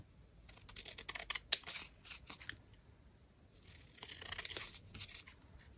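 Scissors trimming a faux rice paper craft specimen: a series of crisp, close snips in two quick clusters separated by a short pause, quiet and without talk.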